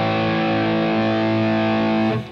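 Electric guitar run through a Line 6 HX Stomp amp model with the high cut removed, giving a sustained, heavily distorted chord that rings steadily and loud for about two seconds before cutting off abruptly, with no speech.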